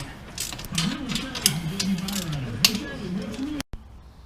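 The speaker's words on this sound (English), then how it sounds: "we're just torquing up these motor mounts, transmission mounts" A ratchet clicks rapidly and repeatedly in short bursts as motor and transmission mounts are torqued during a RZR 1000 engine swap in a shop, close up, with a low mechanical hum underneath.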